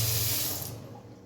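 Kitchen tap running drinking water in a flat's granite-topped kitchen, a steady loud splashing gush that tapers off after about half a second as the flow stops.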